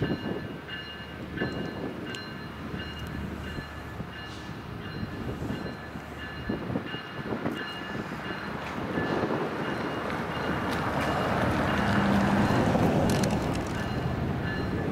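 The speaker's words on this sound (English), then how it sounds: "The rest of the train goes through the wash." A freight train rolls through a train wash at West Colton rail yard in San Bernardino, a long rumbling passage of railcars with clanks and rising hiss of spraying water toward the end, heard from nearby.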